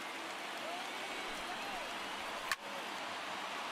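A crowd of about 30,000 fills a baseball stadium in MLB The Show 19 with a steady, even roar of cheering, broken by one sharp thud, while a commentator's voice sits underneath.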